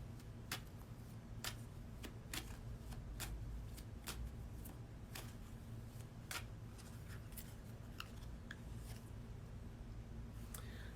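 Cards are riffled and shuffled repeatedly, a series of crisp snapping flutters with brief pauses, close up over faint steady hum, with no talking.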